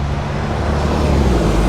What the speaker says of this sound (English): So I just see the bronze colour Rover drive off